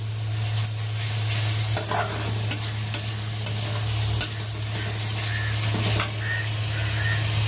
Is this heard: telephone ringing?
no